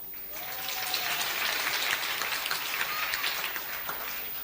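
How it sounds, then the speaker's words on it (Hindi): Devotees seated on a carpet at a spiritual gathering clap together, a dense, bright patter of hands rising and holding over several seconds, with faint voices mixed in. "तालियां तो हम सब बजाते हैं,"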